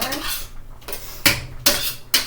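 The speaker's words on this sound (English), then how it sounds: "I'm going to stir that up nice" Metal utensil stirring mushroom gravy in a pan on the stove, a few sharp scraping clinks against the pan at irregular intervals over a steady low simmer.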